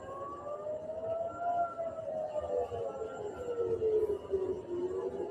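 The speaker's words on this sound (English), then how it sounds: "we have sirens going off live in Tel Aviv," An air raid siren wails across Tel Aviv during a missile attack, its long tone slowly rising and falling. It stays loud and steady throughout, with no voices.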